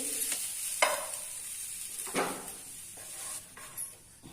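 Onion mixture for eggplant bharit sizzles in a spoonful of oil in a pan, quiet and close, with a few soft scraping stirs breaking the steady hiss.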